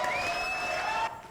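Audience applause and cheering from a crowd in a French street show, steady clapping with a whistle-like tone over it, dropping off toward the end.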